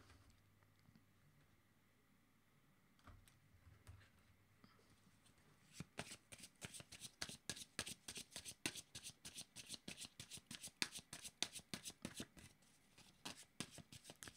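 Tarot cards shuffled close up, a quiet start giving way to a long run of rapid, crisp riffling flutters that continue steadily to the end.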